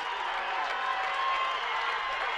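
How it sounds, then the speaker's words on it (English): Crowd cheering and applauding at Celina Stadium during a high school football game between Wapakoneta and Celina, a steady, distant wash of noise that holds at the same level throughout. "Crowd getting into it here at Celina Stadium."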